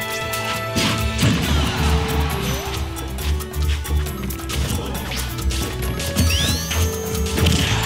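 Sonic's forward smash landing in a Super Smash Bros match, loud crashing hit effects amid busy game music and sound effects, with a commentator talking over it.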